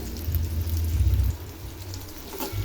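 Chopped small shallot onions frying in hot oil with spices for a chicken curry, a steady close sizzle and hiss that drops in loudness partway through, with no talk.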